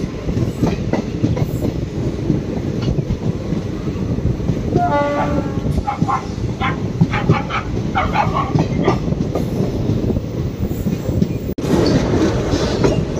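Palakkad-Chennai Superfast Express running between Pollachi and Palani: a steady, loud onboard rumble with wheel clatter and brief tonal horn-like notes in the middle, no voices.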